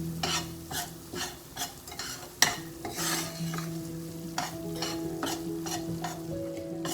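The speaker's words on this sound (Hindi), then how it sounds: "इसमें सूजी डाल के उसको भूनेंगे। चूल्हा बहुत कम रखा है" Semolina roasting in a pan over a very low flame while being stirred, with steady scraping strokes and a soft sizzle throughout, close and with no talk.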